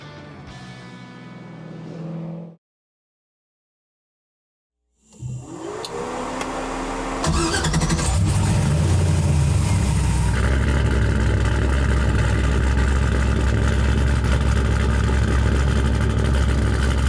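A BMW 330i race car at a training track cranks after a short silence, catches and settles into a loud, steady idle that grows fuller and continues to the end, heard close up.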